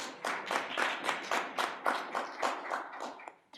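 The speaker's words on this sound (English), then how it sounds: "Big round of applause, everyone." Close, rhythmic clapping at an international conference plenary session, about a dozen evenly spaced claps in a steady beat that fades out at the end, with no talk over it.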